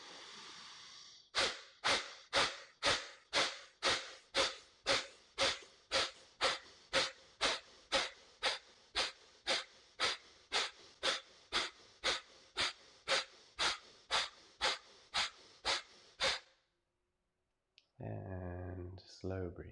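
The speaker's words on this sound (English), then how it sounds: "And slow breathing." Slow, deep rhythmic breathing during a pranayama exercise, about thirty evenly spaced breaths that are loud and close, each with a soft airy rush, then a pause and a brief murmur of voice at the end.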